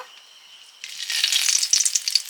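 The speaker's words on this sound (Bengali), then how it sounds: "এবার ঘন্টটাতে ফোড়ন দেব" Spices for crab ghonto hit hot oil and burst into a loud, crackling sizzle after a quiet moment, popping and spitting irregularly close by.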